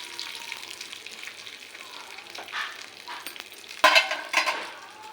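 Cumin seeds frying in a pan and being stirred: a light, crackling sizzle with a few spatula scrapes and a sharp clink near the end.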